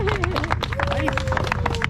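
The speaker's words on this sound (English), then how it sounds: "Applause, everyone." A small crowd claps at an outdoor car show award, scattered quick hand claps mixed with chatter and voices talking nearby throughout.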